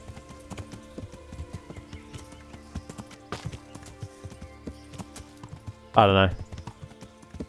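A horse ridden in the video game Kingdom Come: Deliverance clip-clops with a steady run of hoof falls, joined by a brief loud whinny near the end, while someone speaks briefly over the game audio.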